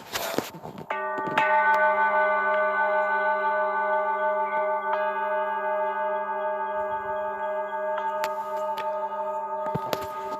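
A gong struck for gong therapy, its long metallic ring with many sustained overtones swelling after the first hit and holding steady and loud, with a few faint knocks near the end.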